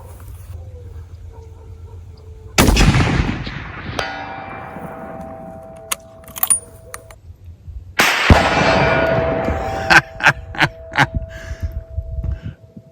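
Steyr Hunter rifle in .300 Winchester Magnum fired over the listener on an outdoor range: two loud, sharp reports several seconds apart, each trailing off in a long rolling echo, with faint voices in between.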